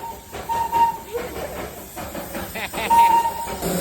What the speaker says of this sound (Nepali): ट्रेन चाहिँ यसरी आउँदो रहेछ।